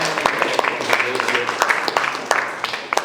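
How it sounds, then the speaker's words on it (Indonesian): Audience applause at an Islamic education teacher-training session, a steady bed of many hands clapping with scattered sharper claps, continuous throughout. "Masya Allah, kasih aplaus."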